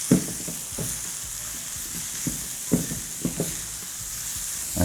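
Carrots, celery and dried thyme sweating in a pan, a soft continuous sizzle close by, broken by a few short knocks and clatters of stirring.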